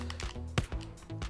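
A computer keyboard is pressed during GTA SAMP play, with a handful of soft, uneven key taps close by, one slightly sharper than the rest, and no talking.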